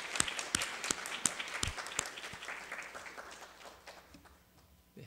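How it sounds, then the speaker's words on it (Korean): A church congregation claps during a Korean Sunday worship service, with distinct individual claps close by standing out over a softer crowd that thins and fades toward the end. "박수 한번 하겠습니다."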